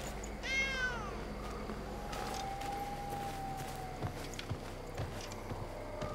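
A cat in the game Blacktail gives a short meow near the start, then a long thin drawn-out mewing tone, with soft footsteps and quiet forest ambience around it and no speech.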